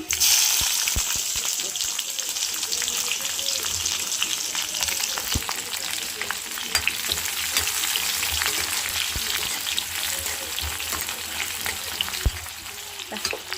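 Chopped onions fry in hot oil in a pan, giving a loud, steady crackling sizzle close by with a few sharp clicks from stirring throughout.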